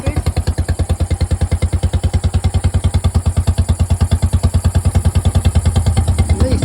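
A Royal Enfield Bullet single-cylinder motorcycle idles close by, its steady, loud thumping pulse slightly uneven as if reluctant to tick over, with the beat quickening a little near the end.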